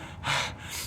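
A short, breathy gasp and exhale from someone out of breath, close and fairly soft, heard alone without talk.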